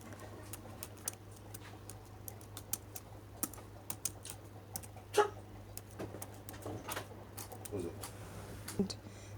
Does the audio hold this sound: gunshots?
no